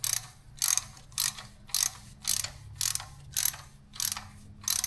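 Wrench work snugging bolts on an A4T engine: about nine evenly spaced ratcheting bursts, each a brief crisp clicking run, close and fairly loud over a low steady hum, with no talking.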